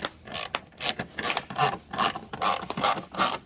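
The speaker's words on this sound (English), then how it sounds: "we're just gonna tighten it up with a ratchet." A ratchet tightens a bolt on a GMC Terrain while the rear signal bulb is being replaced, giving several quick, close bursts of rasping clicks in an uneven back-and-forth rhythm.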